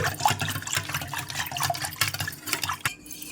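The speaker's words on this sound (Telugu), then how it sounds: "కొంచెం గడ్డల్లాగా లేకుండా చేసి ఇప్పుడు వాటర్ వేస్తున్నాను" Water is poured into spiced masala buttermilk in a vessel and stirred, making uneven splashing, gurgling liquid sounds up close that end abruptly near the finish.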